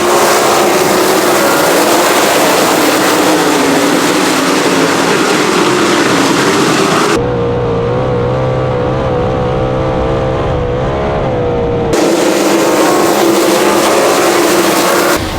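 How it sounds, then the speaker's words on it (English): Sprint cars accelerating back to racing speed as a heat race resumes after a debris caution, a loud, dense engine roar that briefly drops in pitch mid-clip before surging again, with no talk over it. "We're back underway here in TJ Ford's heat race number 1"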